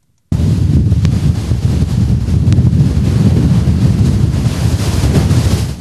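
Giant storm waves driven by a lodos gale pound the shore at Konyaaltı, Antalya, a loud, continuous roaring surf mixed with heavy wind buffeting the microphone, sustained throughout without a pause.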